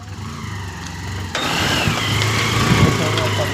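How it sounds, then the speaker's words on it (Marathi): A car's engine idles steadily close by as guests' car arrives at a village home during Ganpati festivities, a low rumble with a rise in noise partway through, with faint voices in the background. "त्यांची गाडी आलेली आहे"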